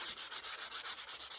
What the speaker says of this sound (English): So a little sanding will even that all out.